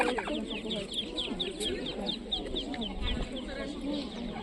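Many chickens cluck and chatter continuously nearby at a poultry exhibition in Ovidiopol, a busy flock with overlapping calls and faint background murmur.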